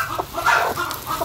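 A brooding hen sitting on eggs clucks in a close, steady run of short murmuring calls, loud and clear with no voices over them.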